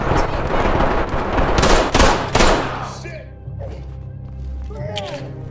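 Rapid pistol gunfire from a custom modern 2011-style handgun in a video game with a gunfighter mod, a dense burst of loud close shots over the first few seconds, with people talking throughout.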